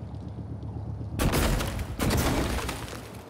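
The glue gun fires in the video game Prey as two sudden loud bursts, a spraying blast that starts abruptly and a second one following closely, after a quieter stretch of low background ambience.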